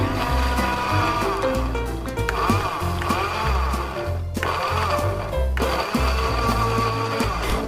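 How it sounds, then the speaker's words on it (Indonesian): Pineapple pieces whirl and crush in a kitchen blender, a loud continuous motor whine with churning chopping texture that stops briefly and restarts, close up. "Lalu blender nanas hingga hancur."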